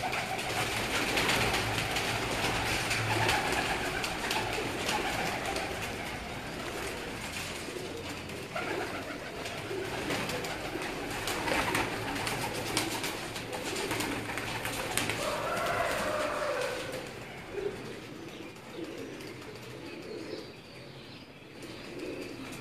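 Breeder pigeons on a rooftop coo steadily through the recording, with occasional wing flaps and a busy background of birds, continuing at a moderate, close level.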